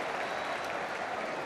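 Wrexham home crowd at an FA Cup fourth-round football match against Sheffield United, cheering and applauding in a dense, continuous roar.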